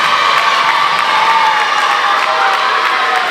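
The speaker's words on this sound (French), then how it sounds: "vous pouvez les applaudir" A school audience at the final of a children's eloquence contest cheers and applauds loudly and steadily, with children's shouts and whoops rising over the continuous crowd noise throughout.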